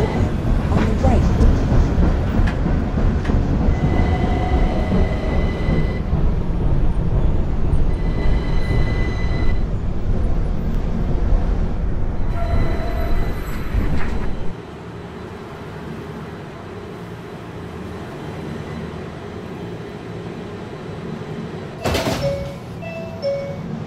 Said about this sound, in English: This is a Ridgeworth Island bound Q Express train.